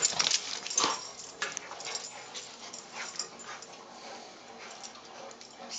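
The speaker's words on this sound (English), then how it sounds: "Silly dog." A wet dog that loves swimming whimpers and yips in short, high, faint bursts near a pool, with a few sharper cries early on and softer whines trailing off.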